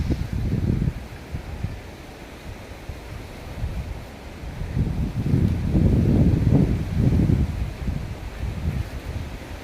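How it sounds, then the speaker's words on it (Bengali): Strong wind sweeps across a jute field in a quiet village as a nor'wester storm builds, a loud, continuous rushing roar that swells in surges close to the microphone. "হাওয়া চলছে প্রচণ্ড, তো এই জন্য দেখতে পাচ্ছ।"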